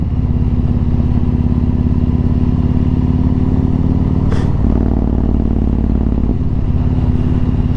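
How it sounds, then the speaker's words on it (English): A Yamaha MT-01 motorcycle engine drones steadily and loudly up close, its exhaust note rumbling low with a brief shift in pitch midway. "being blasted by my exhaust note"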